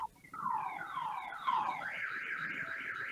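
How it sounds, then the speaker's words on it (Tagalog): A car alarm wails in repeated rising and falling sweeps, then settles into a steady rapid warble, moderately distant and alone with no talk. "Yun yung parang pag nasagi mo yung sasakyan, tapos may alarm, diba?"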